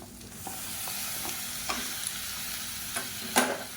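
Tomatoes with chili powder sautéing in a pan, a steady soft sizzle with occasional stirring scrapes and light clinks spread through, fairly quiet and close, no voices.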